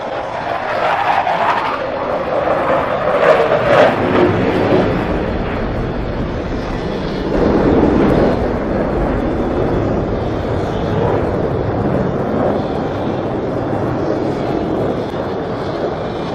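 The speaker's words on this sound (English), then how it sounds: "all 4 aircraft converge on center point with maximum closure and" Blue Angels F/A-18 Hornet jets converging overhead during a rehearsal display at the US Naval Academy, a loud broadband roar that rises and falls over several seconds and lingers as a distant rumble.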